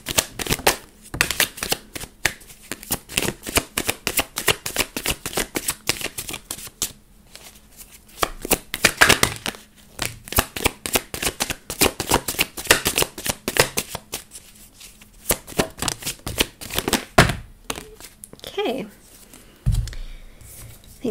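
Tarot cards shuffled by hand in quick, repeated riffling bursts that go on steadily for about twenty seconds, close and fairly loud, with short pauses between runs of shuffling and no talking.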